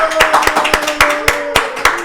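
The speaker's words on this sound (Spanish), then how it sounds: "Aplausos" Hands clap in a quick, even rhythm, about ten sharp, close claps in two seconds, loud against a faint steady hum, with no crowd and no voices.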